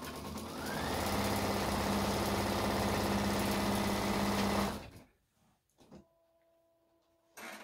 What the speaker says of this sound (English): you're going to sew them end to end. And let me do that real quick.